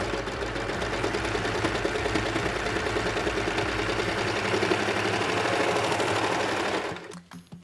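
A serger overlocker runs continuously for about seven seconds, stitching the saddle seam of a pair of leggings, a steady loud mechanical whir that stops abruptly near the end.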